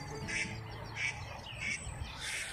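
A duck calls in repeated short, raspy squawks, four evenly spaced bursts, beside a canal narrowboat on a frosty morning, fairly quiet over a soft outdoor background.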